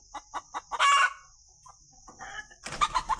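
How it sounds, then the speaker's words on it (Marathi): A hen perched in a tree on a farm gives a run of short clucks, then a louder squawking burst, then more clucking, fairly close with a steady high background hum. "इकडं बघा ही कोंबडी ना रोज कोंबडी हो बाका झाडावर झाडावरती बसते"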